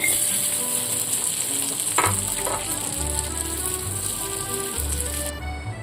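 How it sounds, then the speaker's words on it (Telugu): Cashews fry in a couple of spoons of ghee in a kadai, a steady close sizzle with a stir or two partway through, no talking. "ఒక బాండి పెట్టుకొని ఒక రెండు స్పూన్ నెయ్యి వేసుకొని జీడిపప్పు వేయించుకోవాలి"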